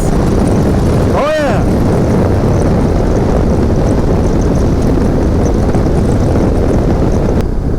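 BMW R1100GS motorcycle being ridden, a loud, continuous roar of engine and rushing wind noise with a short whooshing swell near the start, sustained at full intensity throughout.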